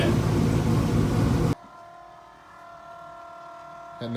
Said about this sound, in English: That noise is a scavenge pump.